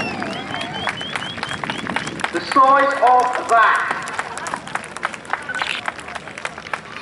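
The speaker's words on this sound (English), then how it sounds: "Massive round of applause, ladies and gentlemen." Outdoor crowd applause at a seaside air show as a parachute team leader lands, a steady wash of clapping under a loud announcer's voice, with whistling tones and a brief swell in the middle.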